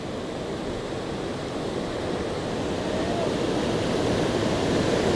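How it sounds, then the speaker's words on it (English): Water of the Malad River rushes in a constant broad roar, a small waterfall spilling nearby in Malad Gorge, growing slightly louder toward the end, with no talking. "Little waterfall there, and several little ones."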